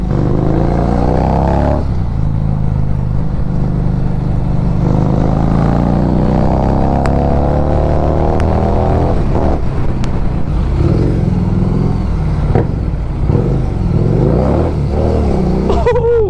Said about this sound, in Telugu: this has some serious exhaust note